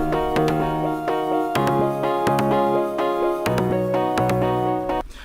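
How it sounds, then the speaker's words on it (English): A melody loop from a producer sample expansion pack plays alone, with bright plucked or keyed notes struck in repeating rhythmic phrases over a low bass, cutting off abruptly near the end. "I'm just messing with one of his melody loops"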